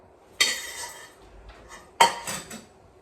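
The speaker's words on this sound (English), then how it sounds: "Stir it up." A spoon scrapes and clinks against a pot of thick New England clam chowder with vegetables, in two short bursts of stirring separated by a quieter pause.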